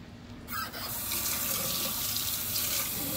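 Tap water runs steadily into a sink while a cleaned bowfin fish is rinsed, a close, continuous splashing gush that starts after a brief quiet moment and holds for the rest of the clip.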